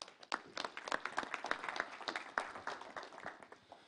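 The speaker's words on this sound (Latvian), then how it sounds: "Ar aplausiem!" Audience applause at the opening of a digital transformation forum, a few seconds of moderately dense clapping from a crowd, fairly quiet overall.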